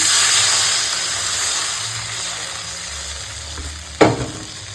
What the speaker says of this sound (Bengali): কচি আলুটা এখন হালকা করে এরকম ভাজা হয়ে গেছে